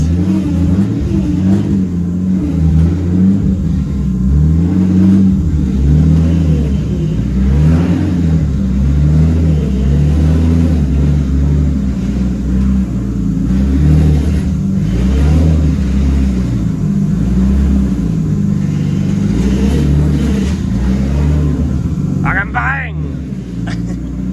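A Nissan R33 with an RB25DET engine driven on the road, its low engine drone rising and falling steadily through repeated revs and shifts, heard close from inside the car with occasional talk over it.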